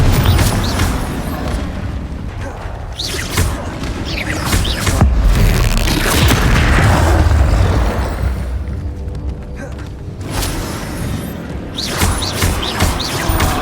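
Repeated Confringo fire-spell blasts in Hogwarts Legacy, a run of booming bursts and crackling impacts over several seconds amid ongoing combat noise, with a player's voice speaking over the action.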